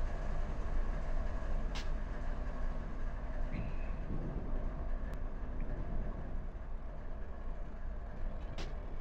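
A train rolls along in the Run 8 Train Simulator game with a constant low rumble of wagons, punctuated by a few brief hisses and metallic clicks, moderately loud and without clear talk.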